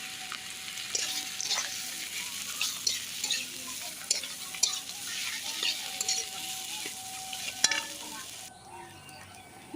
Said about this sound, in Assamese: এতিয়া আলুখিনি ভালকৈ ভাজি ল'ম।